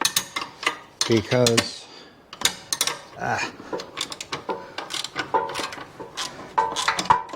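Torx T40 wrench cracking loose the suspension bolts on a 2022 Harley-Davidson CVO, sharp metallic clicks and ratcheting clanks in irregular bursts, close up, with someone talking over and between them.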